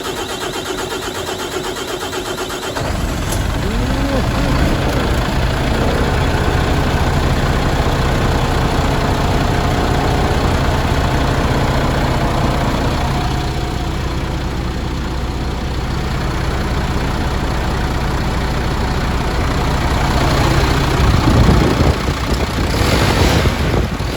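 A newly installed Euro 5 diesel truck engine, fitted in place of a Euro 6 unit, idles steadily with a deep low rumble after starting up around the third second, running continuously and fairly loud with no talk over it.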